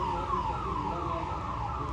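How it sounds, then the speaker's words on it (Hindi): Ambulance siren wailing as it passes behind a cricket ground during a tournament match, its rising and falling tones steady and fairly loud across the whole stretch amid outdoor background noise. "एम्बुलेंस जा रही है हमारे पीछे।"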